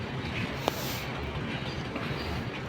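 A freight train rumbles past with a steady mechanical clatter, a brief squeal cutting through midway, all at a moderate, even level.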